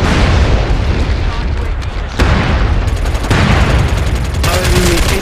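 Gunfire and booming blasts in a military shooter game defending Aralkum, with sharp bursts and impacts layered over a dense, continuous battle din and talk running through it.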